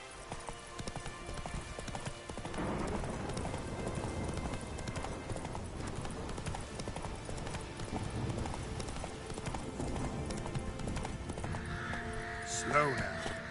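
Roach the horse galloping in Witcher 3, with rapid rhythmic hoofbeats that continue throughout and a neigh near the end.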